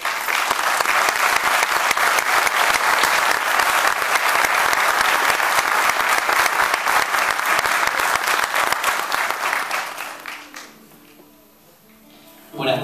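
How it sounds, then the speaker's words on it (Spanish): Loud, sustained applause from an audience at a cultural venue event, continuous and dense for about ten seconds before fading out, followed by a brief quiet stretch. "Un fuerte aplauso."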